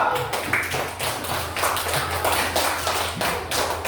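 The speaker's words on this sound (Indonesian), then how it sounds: "Berikan aplaus kepada kelompok 2." Classroom of students clapping for a group that has just presented, dense steady applause lasting several seconds, fairly close and loud with no talking.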